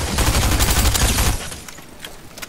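Video game gunfire crackles in a dense rapid stream as a shield keg NPC is shot, then cuts off and leaves a quieter scatter of sounds.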